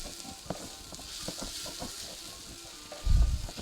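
A full tablespoon of crushed red pepper sizzles in a hot pan alongside onions, garlic and ginger, a steady crackling hiss with light stirring clicks, closing on a louder low thump.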